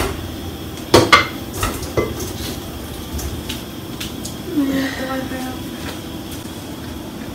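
Metal pots and pans clank sharply near the start and then rattle more quietly while cooked sausage is strained, with a clatter of handling in a home kitchen.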